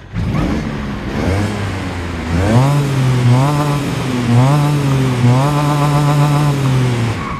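A small car engine revs up from a standstill, pitch climbing through several gear changes, loud and close, with no one speaking.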